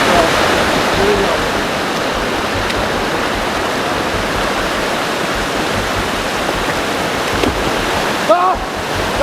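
River water rushes steadily at a swimming hole in the Zion Narrows, a broad, dense wash of sound that fills the whole stretch, close and fairly loud, with a brief faint voice near the end.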